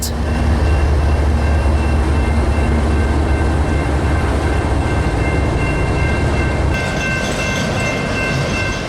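A long Union Pacific freight train with mid-train distributed power rolls steadily past close by in winter, a loud continuous rumble and rail noise filling the whole stretch with no break.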